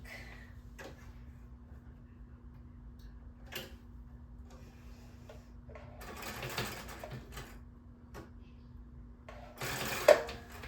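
A sewing machine putting one more stitch at the top of an embellishment, heard as brief bursts of mechanical whirring and ticking amid quiet handling noises, fairly close but not loud.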